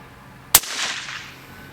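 A single sharp gunshot fires a solid copper monolithic bullet at a steel target, followed by a brief fading ring.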